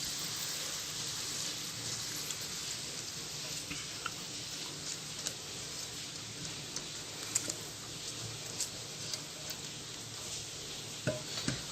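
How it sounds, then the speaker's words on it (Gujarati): Hot tempering of urad or chana dal poured into fresh coconut chutney for idli and dosa gives a steady, soft crackling sizzle that runs evenly throughout with small pops, close and without talk. "आ वघार अपने अपनी चटनी में नाखी देशुं।"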